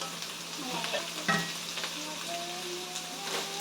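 Carbonara with sliced mushrooms frying in a pan, a steady close sizzle with a few stirring scrapes and one sharper clack, no voices.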